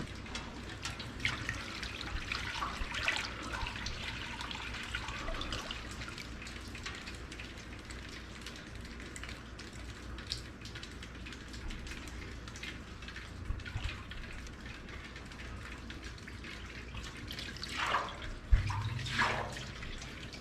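Water trickles and drips steadily from an old, rusty Minneapolis Moline tractor gas tank, a continuous close splashing with a few louder drops and knocks near the end.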